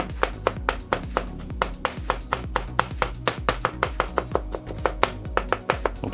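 Garlic being finely chopped with a knife on a board, a fast, regular run of crisp close taps, roughly four per second, with no talk.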